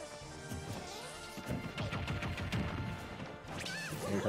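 Flurry of hits and crashes from a Super Smash Bros. Ultimate match between Mario and Pikachu, including two forward smash attacks, with rapid thuds and whacks over busy game music and sparkly effects.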